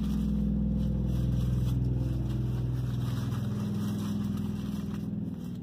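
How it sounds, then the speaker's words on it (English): A loud truck rumbles close by outdoors, a steady heavy engine drone holding strong for several seconds before easing slightly at the end. "Really loud truck."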